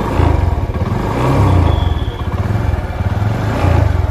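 A 2023 TVS Apache 160 2V motorcycle engine running just after starting, a loud, close, rhythmic thumping idle that rises briefly like a light rev before settling back to its pulsing beat.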